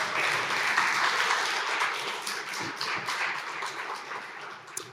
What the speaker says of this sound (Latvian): Aplaus darītājiem, lūdzu.